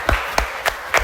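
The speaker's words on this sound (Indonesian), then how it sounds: "Beri tepuk tangan dulu." Primary school pupils in a classroom clap together in unison: four sharp, evenly spaced claps, close and fairly loud, with no talk.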